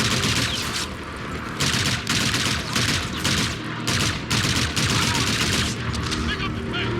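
Sustained automatic gunfire in the Call of Duty Infinite Warfare single-player campaign, dense rattling bursts with brief gaps and booms during an urban firefight, loud and continuous.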